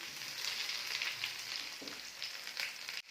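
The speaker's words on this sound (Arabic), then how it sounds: "بعد ما قليتهم نزيد نقلي الكويس" Zucchini slices frying in hot oil for a Constantine-style Algerian peach tagine, giving a steady close sizzle with crackling bursts throughout and a brief drop near the end.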